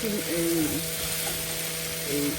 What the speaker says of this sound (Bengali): এই চিংড়ি মাছটা দিয়ে এই মিষ্টি কুমড়া এভাবে ভাজি করবো